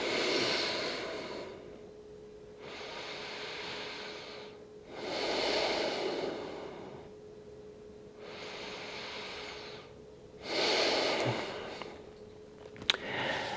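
Slow, deep yoga breaths come in long, regular waves of airy inhales and exhales, close and steady, with a faint constant hum underneath and no talking.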